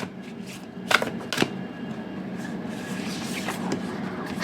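Tarot cards being shuffled alone at close range, a soft papery rustle with a couple of sharper riffling bursts early on, then a steady low shuffle.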